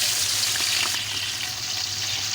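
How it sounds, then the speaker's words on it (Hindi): Freshly washed beef keema fries in a pot with oil from fried onions, giving a steady, dense, watery hiss that stays close and even throughout. "अब कीमे को हम इसमें ना फ्राई करेंगे अच्छे से"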